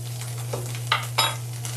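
Big chunks of garlic sauté in a hot pan over a steady low hum, with soft sizzling and a few sharp stirring scrapes of the utensil against the pan.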